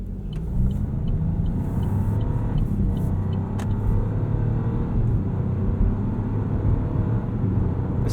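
A 2021 Chevrolet Trailblazer LT AWD with a 9-speed automatic transmission drives along, giving a steady, close interior road rumble and a smooth engine hum with no talk.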